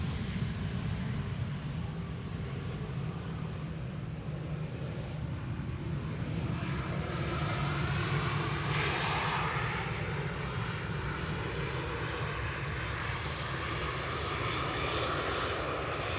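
Boeing 757 airliner arriving on the Polderbaan runway 18R at Schiphol, a steady loud jet engine roar that swells and holds throughout, heard from outside with no voices.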